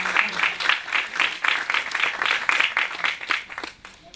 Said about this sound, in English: A round of applause for all.